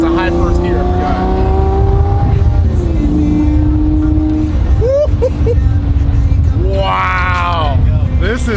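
Engine of a newly arrived dream car pulling away in first gear and accelerating on a test drive, a steady loud drone with rising revs, while excited people talk over it throughout.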